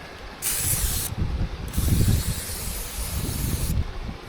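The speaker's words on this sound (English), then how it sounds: "Spray everything good." Short hissing bursts of cooking oil spray, two or three quick sprays close by with some clattering handling in between.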